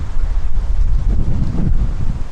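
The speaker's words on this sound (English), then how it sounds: "It is really windy right now." Strong severe-thunderstorm wind of about 45 to 50 mph in Brooklyn buffets the microphone with a loud, low, continuous rumble and gusty surges, no voices heard.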